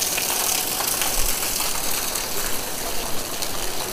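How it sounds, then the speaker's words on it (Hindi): The Banganga river runs nearby as a steady, dense rush of water that fills the whole moment with continuous broadband hiss and no pauses or voices. "तो बाणगंगा का ही पानी है"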